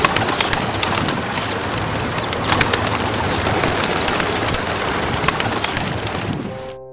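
Birds call outdoors in Los Angeles where people feed seagulls and squirrels; cooing and chirping sounds run steadily through a dense, hissing wash of background noise for about seven seconds, with no talking.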